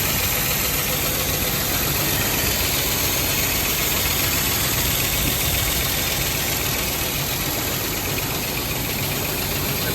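A 1970 Jeep engine running roughly just after its first start, with a new starter and fuel pump fitted; a loud, steady idle rumble fills the whole stretch, close up and without voices.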